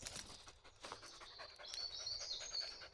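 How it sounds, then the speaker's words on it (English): A dog in the woods pants rapidly and steadily at close range, with a faint high whine rising toward the end; birds or light ambience sit quietly underneath. "the dog just had a tantrum at me"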